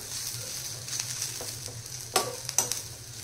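Dried coconut frying in oil in a pan for homemade misal masala makes a quiet, even sizzle, broken by a few sharp clinks and scrapes of stirring.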